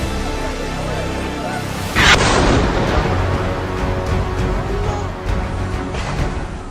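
A rocket strikes a hospital compound during an air strike on Gaza, a sudden loud blast that bursts out and then rolls into a long, heavy rumbling roar.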